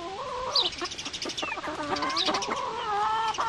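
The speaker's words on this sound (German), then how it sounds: "Ein Sussex-Hahn." A Sussex rooster clucks and makes warbling, drawn-out calls up close, several overlapping vocalizations over a few seconds against a soft background hiss.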